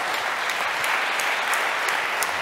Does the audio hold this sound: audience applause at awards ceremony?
yes